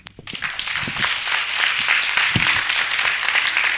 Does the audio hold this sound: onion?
no